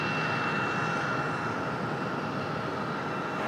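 A jet airliner takes off from runway 5 left at Raleigh-Durham airport with a steady, loud, broad engine roar that holds evenly throughout, heard from a distance with no voices.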